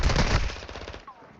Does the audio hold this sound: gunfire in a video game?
yes